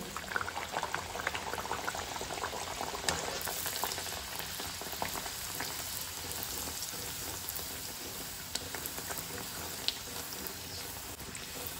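Banana bun dough sizzles and crackles steadily in hot oil over a medium flame, a dense continuous frying hiss with occasional sharper pops, close and fairly quiet.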